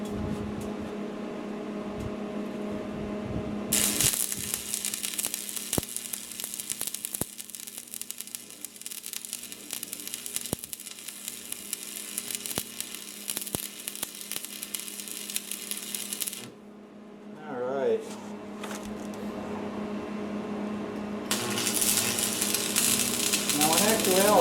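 Welding along a trailer drawbar frame during restoration, a steady, close crackling hiss that runs for over ten seconds, pauses briefly, then starts again as a second sustained bead.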